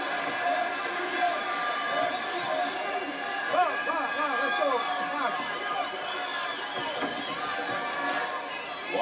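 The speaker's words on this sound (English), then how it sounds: "The crowd's on its feet now, wanting more." A boxing crowd on its feet roars and shouts continuously through a bout, a dense wall of cheering voices with scattered whoops rising above the din.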